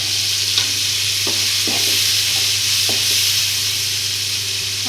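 Curry leaves fry in hot oil in a pan with a steady bright sizzle, while a spoon scrapes and stirs in several short strokes under a faint low hum.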